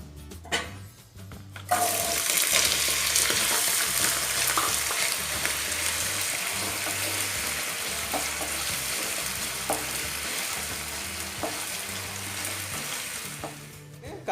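Potato pieces hit hot oil for a Spanish omelette and set off a loud, steady sizzle that starts abruptly after a quiet moment and carries on with faint stirring clicks.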